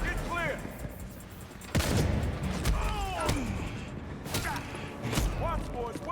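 Gunfire in a superhero action video game during a fight with Nightwing, several sharp shots spread across the clip over game sound effects and voices.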